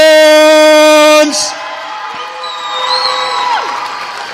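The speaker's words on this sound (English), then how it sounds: "Round of applause for our Rocky Mount Griffins" Loud sustained buzzer-like tone cuts off, then a basketball crowd at a high-school Christmas tournament championship cheers and whoops for the Rocky Mount Griffins, with a voice over the noise.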